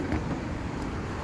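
A 2016 Hyundai Azera V6, just repaired after a misfire, idles steadily as a low, even engine hum with a faint outdoor background and no talking.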